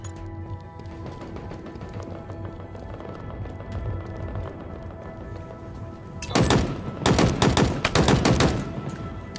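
Gunfire in the Halo Infinite video game rings out as a rapid burst of loud, close shots near the end, over a busy background of game sound.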